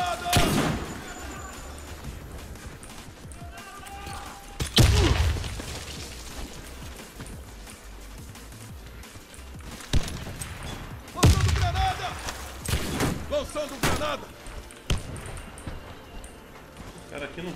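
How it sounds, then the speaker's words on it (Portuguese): Grenade explosions and gunfire in a shooter video game: two loud, booming blasts several seconds apart, with scattered bursts of shots in between, heard under ongoing excited talking. "Granada!"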